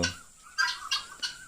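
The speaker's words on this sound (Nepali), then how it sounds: "ए त्यो लौकट हो" A turkey gobbles in three quick, rattling bursts, fairly close and clear with brief pauses between them.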